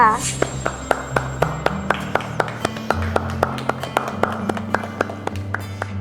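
Sparse, evenly spaced claps ring out from a small group of people at an office gathering, each sharp tap standing alone over a quiet background of music.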